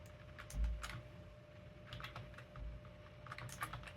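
Arrow keys on a computer keyboard being pressed while gaming on a vintage Pentium III Windows 2000 PC, a run of quick clicks and taps with a couple of heavier thumps, fairly quiet and close, no talking.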